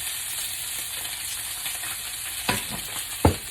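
Sweet potato, shallot and garlic frying in oil in a pan give a steady, close sizzle, with a couple of sharper stirring scrapes near the end.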